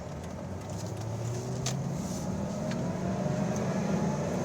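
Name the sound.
2003 Ford Mustang Cobra engine, driving in first gear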